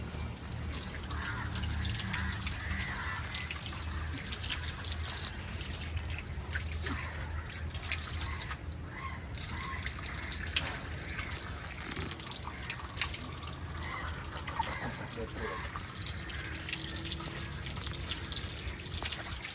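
Water pouring and trickling into an alligator gar's aquarium during a water change, a steady close splashing flow that keeps going without pause.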